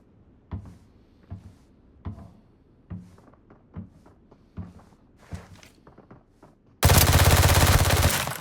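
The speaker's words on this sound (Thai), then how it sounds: "อย่าคิดว่าจะรอดนะครับผมถ้าคุณโดน P90 เข้าไปนะฮะ ปืนนี้ดีจริงๆนะครับผม" In the Arena Breakout video game, a P90 submachine gun cuts loose in a sustained, loud, dense burst of automatic fire, preceded by a series of quieter, evenly spaced thuds like footsteps.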